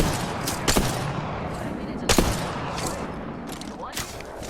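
Gunfire in Apex Legends cracks out in a series of loud, close shots roughly every half second to second, with game voice lines talking between them.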